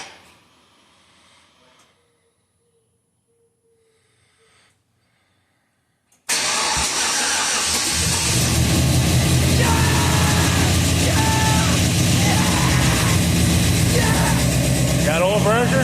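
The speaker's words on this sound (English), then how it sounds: "Guess we're gonna hit the starter and see what happens." A cammed 5.3L engine starts for the first time. After a near-silent lead-in it suddenly bursts into loud, steady running that holds to the end, with people talking around it.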